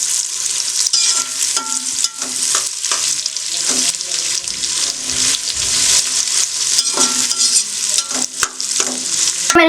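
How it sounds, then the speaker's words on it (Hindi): Chopped onions stirring and sizzling in about half a cup of hot oil for a beef degi korma, a continuous loud frying hiss broken by repeated scrapes of stirring, no talk. "अनियन को ब्राउन होने तक इसी तरीके से पका लेंगे"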